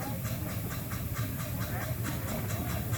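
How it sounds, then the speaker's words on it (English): A passing train gives a steady, close rumble with a rhythmic clatter of wheels and a broad hiss running continuously throughout. "You have to wait for this train to go by."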